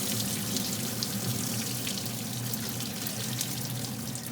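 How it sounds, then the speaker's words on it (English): Hot potato cooking water is poured from a pot into a colander holding the potatoes, a steady close splashing rush that continues unbroken for a few seconds, with no voices. "pour the water into the colander with the potatoes"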